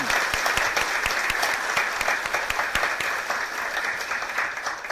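An audience at a Gwanak-gu student safety policy forum breaks into sustained, dense applause, loud and close, with many hands clapping steadily throughout.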